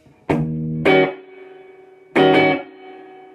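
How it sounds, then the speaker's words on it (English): Two loud electric guitar chords ring out through a Monoprice 15W amp, each trailing off into a lush, washy spring reverb tail. "I hope you can hear that breakup, or not the breakup, but the reverb."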